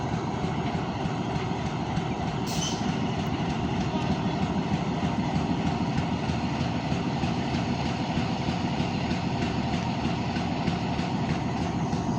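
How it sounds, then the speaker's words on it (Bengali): A 21 Up Padma commuter train departs Kamarpara station on the loop line bound for Lalmonirhat, a steady, continuous rumble of rolling stock and engine heard close, with no talk. "লুপ লাইন থেকে লালমনিরহাটের উদ্দেশ্যে ছেড়ে যাবে 21 আপ পদ্মরা কমিউটার ট্রেন।"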